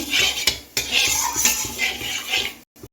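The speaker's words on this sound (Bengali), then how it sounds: "ফোড়নে কালো লঙ্কা দিয়ে কালো জিরে দিয়ে দিচ্ছি ফোড়নটা একটু ভেজে নিচ্ছি" Black chilies and nigella seeds fry in hot oil for a tempering. A steady, close sizzling hiss comes with a few utensil clatters, then cuts off abruptly at the end.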